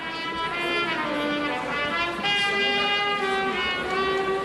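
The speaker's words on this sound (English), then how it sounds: "here is the sound of a trumpeter warming up in the city of Romeo and Juliet" A trumpeter warms up in a square in Verona, playing a string of sustained, jazzy notes that ring clearly over faint outdoor city ambience, with no talking.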